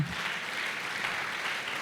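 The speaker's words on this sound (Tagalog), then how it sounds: "Palakpakan natin ang ating Panginoon. Yung palakpak sa Panginoon." Church congregation at a Sunday service applauding, a short burst of dense, even clapping from many hands filling the room.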